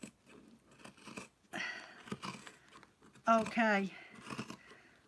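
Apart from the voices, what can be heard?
cutting handwoven fabric edging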